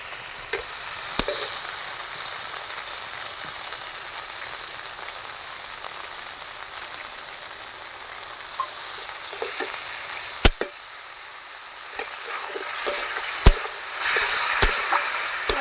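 Potatoes and spices fry and sizzle steadily in a pan, with a soft continuous hiss and a few sharp clicks and scrapes of stirring throughout, brightening toward the end.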